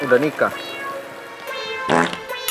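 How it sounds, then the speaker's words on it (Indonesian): A fart under an Indonesian comedy drama conversation, a brief low burst among people's talk, with another short loud burst near the end. "Lo kentut ya?"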